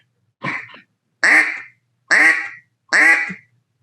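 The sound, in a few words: duck call imitating a mallard hen quacking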